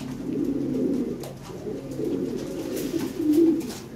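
Grey pearl-eyed Lahori pigeons coo nearby in low, rolling murmurs that repeat and overlap over a few seconds, with no talk.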